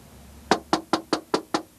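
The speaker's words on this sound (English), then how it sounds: "Oh, somebody's at the door." Six sharp knocks at a door in a quick, even rhythm, close and clear against a quiet room.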